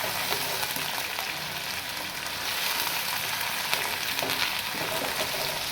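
Chicken for bhuna chicken sizzles steadily in a pan over high heat, a continuous dense crackle of frying with occasional stirring, close and fairly loud, with no talking.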